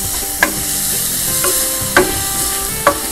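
Onions and tomatoes sauté in a pot for country chicken biryani, a close, loud sizzle broken by four sharp clanks of a spoon stirring against the metal.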